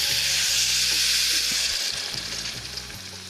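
Water poured into a pan of frying potato and pumpkin pieces with ginger for a vegetarian pumpkin chokka. A broad, steady sizzling hiss comes first, then eases and softens toward the end, with a low hum beneath and no talking.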